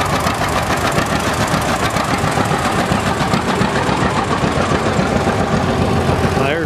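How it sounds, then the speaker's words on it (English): A loud two-cylinder tractor engine chugs steadily at idle at a tractor show, with a rapid, even knocking rhythm that continues without a break. "I hope that 2-cylinder engine doesn't ruin my sound system."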